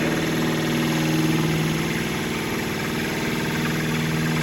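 A lathe runs steadily while turning a combination stiletto and seam ripper tool, taking very light cuts; a constant loud mechanical hum and whir holds throughout with no talking.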